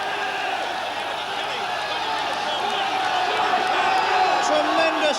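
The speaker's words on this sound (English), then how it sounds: "And listen to the crowd." A greyhound race crowd roars steadily and builds toward the end, a continuous loud cheering wash under a commentator's excited voice.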